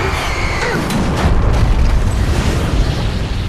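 Bombs explode in a film scene, producing a loud, continuous, deep rumbling roar with heavy booming bursts that swell and persist for several seconds, with no speech.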